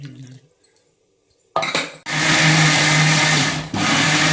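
A mixer grinder grinding appam batter roars into a loud, steady whir after a few short bursts, blending continuously with a brief dip near the end.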